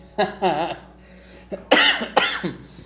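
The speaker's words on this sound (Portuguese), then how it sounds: "tô com uma tosse alérgica" A few harsh, dry allergic coughs close by, coming in short separate bursts with brief pauses between them.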